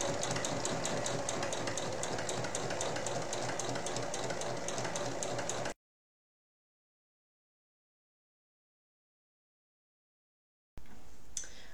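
A sewing machine stitches around an apron in a fast, steady mechanical chatter close by. The sound stops abruptly into silence, then the stitching resumes briefly at the end.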